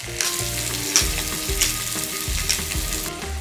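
Mackerel fish frying in a pan, a steady loud sizzle close by throughout with a few brief clinks and scrapes from the pan.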